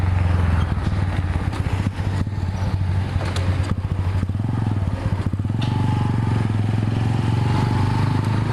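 A motorcycle engine that keeps stalling runs loudly and steadily nearby, a rough continuous rumble with some rattling, holding at idle throughout.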